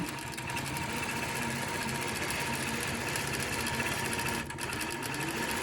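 A computerized longarm quilting machine running an Eclipse-feature quilting pattern, a steady loud mechanical hum with a rapid stitching rattle and a brief dip near the end, no talking.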